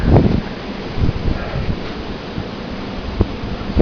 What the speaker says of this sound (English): Probably like 40-mile-an-hour winds.